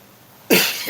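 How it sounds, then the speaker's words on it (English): A person with an irritated, tickly throat gives a single loud, close cough, sharp at the start and trailing off slightly. "I'm gonna cough again."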